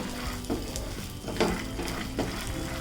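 Peanuts fry in a pan until they change colour, giving a continuous close sizzle broken by a few sharp stirring scrapes.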